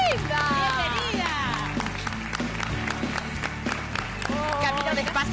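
Studio audience applauding as actress Nancy Dupláa arrives on a television talk show, a steady wash of clapping and cheering under music and a host's voice.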